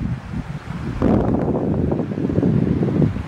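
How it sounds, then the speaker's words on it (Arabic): Winter wind blows in from a white beach in the Moroccan Sahara, buffeting the microphone in rough gusts that strengthen sharply after the first second into a constant blustery roar, with no speech. "كاين هذا الريح كيجي من الشاطئ الابيض"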